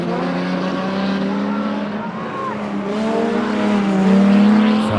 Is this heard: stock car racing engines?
yes